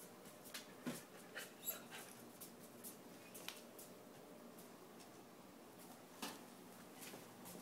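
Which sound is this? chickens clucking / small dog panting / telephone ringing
small dog panting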